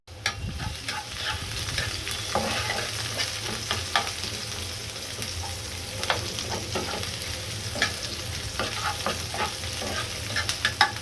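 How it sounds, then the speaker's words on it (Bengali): Onion fries in a pan on a stove, a soft continuous sizzle broken by scattered scraping stirs and small crackles, close and fairly quiet. "বাঁধাকপি রান্নার জন্য আমি চুলাতে ফ্রাই প্যান বসিয়ে দিয়ে আমি পেঁয়াজটা ভেজে নিচ্ছি"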